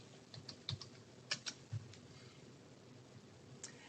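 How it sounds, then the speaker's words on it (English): Computer keyboard keys tapped in a short, irregular burst of crisp clicks while a search is typed, close and fairly quiet over a low room hum, with no talking. "So I'm going to go ahead and type that in, white privilege."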